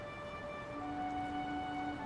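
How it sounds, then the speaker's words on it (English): A sudden rain downpour in the video game Fire Emblem Three Houses hisses as a steady, even wash of rain noise under soft sustained musical tones, with no talking. "there's a sudden downpour"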